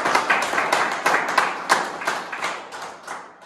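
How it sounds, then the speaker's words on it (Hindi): Audience clapping at a commando training academy marking a recruit's Agniveer selection, uneven hand claps with rhythmic surges, moderately close, with no voices over them. "इसको इसके नाम की तालियां।"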